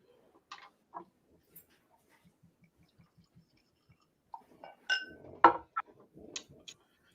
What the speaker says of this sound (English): Let me get my glasses in order here.